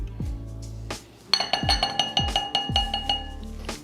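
A spatula clinks repeatedly against a bowl while salad dressing ingredients are added, a quick run of bright, close ringing taps over low thuds, with no voices.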